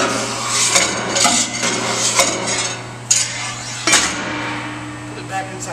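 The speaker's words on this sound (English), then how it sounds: "Simply slide the rotor back onto the shaft assembly." A metal rotor slides back onto the shaft assembly of a Sanitary RS700 unit, giving scraping metallic rubs and several sharp clanks and knocks close by over a steady low machine hum.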